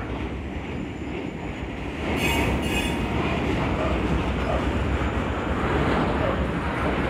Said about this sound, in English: The way the train is entering in the Belgaum station.